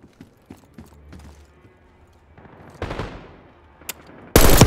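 Black Ops 6 gunfire: scattered sharp shots, a short burst midway and a loud blast at the end, mostly distant-sounding with no talk.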